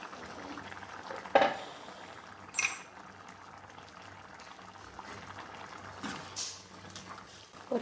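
Country egg gravy with boiled eggs simmers in a pot, giving a soft, close bubbling and gentle popping with a few louder stirring or pot knocks at intervals.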